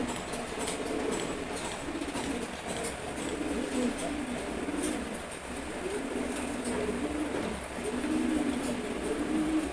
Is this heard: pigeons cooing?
yes